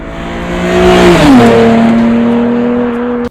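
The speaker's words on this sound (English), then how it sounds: "If you just got an IS-3050 and you're looking for a catback exhaust system, Arc Performance got you covered, guys. Car sounds amazing." A Lexus IS 350 fitted with an Arc Performance catback exhaust revs loud and close, its tone rising and then dropping into a steady, droning exhaust note before cutting off.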